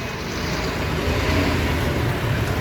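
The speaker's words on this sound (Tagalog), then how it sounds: "Traffic, traffic." Steady broadband road traffic rumble near a busy fireworks market in Bocaue, with constant low engine drone and no clear voices.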